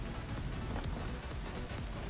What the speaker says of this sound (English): We've got rain now in the game.